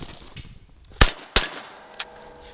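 A Draco NAK-9 9mm pistol fires two sharp, loud shots about a third of a second apart, followed by a fainter metallic clang of a hit on a steel target, with no talk.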